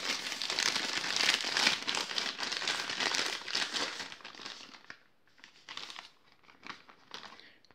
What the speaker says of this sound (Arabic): هتبتدي تفتح الكيس الكيس بيبقى حجمه اكبر اما بتفتحه